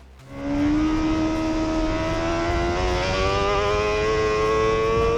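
A 2024 Honda CBR1000RR-R Fireblade SP superbike engine kicks in and revs, its pitch climbing steadily in a smooth rising whine, loud and close, with no talk over it.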